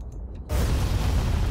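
A bomb impact explosion in the DCS A-10C flight simulator hits suddenly after a quiet moment, a single loud, deep blast that swells into a broad rumbling roar and holds to the end.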